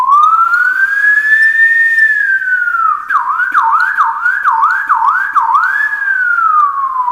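A voice imitates the ambulance siren from the video game GTA, a rising and falling wail followed by a rapid warbling yelp, loud and close, with no other sounds.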